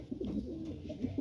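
Pigeons waiting for a bath coo softly nearby, a few short throaty murmurs overlapping in a brief burst.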